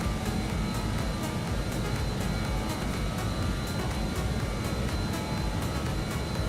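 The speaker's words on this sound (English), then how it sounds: "Give me some takeoff power still" Aircraft engines at takeoff power in Microsoft Flight Simulator on a DHL flight in Indonesia make a steady, even broadband roar from start to finish, heard from inside with no talk.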